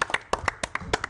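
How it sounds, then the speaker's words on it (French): A few people clap for a performer at a radio broadcast from the Avignon festival, giving a short burst of sharp, close, uneven claps without talk. "Là, ça s'applaudit."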